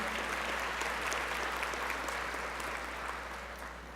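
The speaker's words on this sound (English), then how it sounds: "I think we should give them both a round of applause." Steady applause from a crowd, a dense wash of clapping that holds evenly and then slowly fades toward the end.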